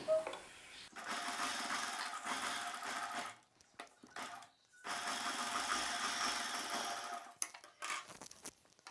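Sewing machine stitching the top side of a folded silk saree blouse lining, heard as two long steady whirring runs separated by a brief pause and a few short bursts, close up and moderately loud.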